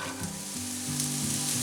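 Garlic with white and red onions sizzles in olive oil in a pan, a dense continuous hiss with a faint steady hum underneath, close and without speech.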